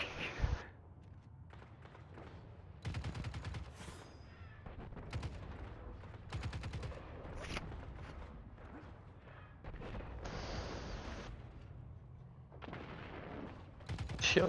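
Repeated gunfire crackles in bursts while snipers are shot down in a video game, loud and fairly steady across the stretch, with short pauses between volleys.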